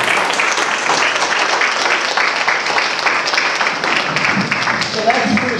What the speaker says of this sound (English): Give them a round of applause right now.